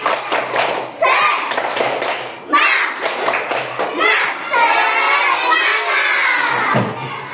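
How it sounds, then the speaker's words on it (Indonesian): Schoolchildren in an Indonesian fifth-grade classroom perform a rhythmic spirit clapping chant, shouting together in bursts with claps and thumps, loud and close, the group voices rising and falling across several phrases. "Ibu mau lihat dulu semangatnya. Tepuk semangat."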